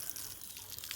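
Tap water flowing in a steady light hiss with faint splashy trickles, close and quiet, heard alone over a short second.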